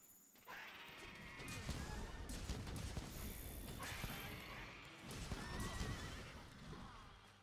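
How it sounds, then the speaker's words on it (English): Video game creature letting out harsh, neighing horse-like cries in two long strained bursts, loud and raspy, with clattering game effects around them. "Why do you sound like a dying horse?"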